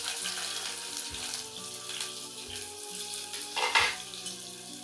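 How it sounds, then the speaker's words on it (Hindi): Onion and garlic sizzle steadily while frying in a pan over a low gas flame for a home-style vegetable curry, with a continuous crackling hiss, a brief louder spatter near the end, and no talking. "गैस का फ्लेम को लो करके प्याज को हल्का भूनना है"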